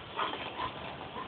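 A dog whimpers softly while meeting a visitor, with thin, high, wavering whines that rise and fall a few times over a low background.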